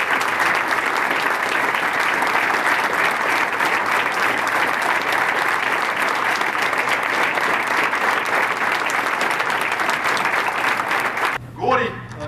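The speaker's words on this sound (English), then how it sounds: "We just have a round of applause for everybody who's helped out this year" Sustained audience applause at a 2003 high school football banquet, a dense, loud wash of many hands clapping that holds steady, then cuts off abruptly near the end.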